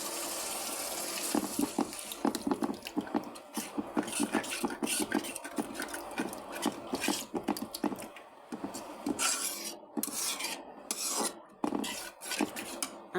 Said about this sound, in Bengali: আমি এখন পানি দিয়ে দিতেছি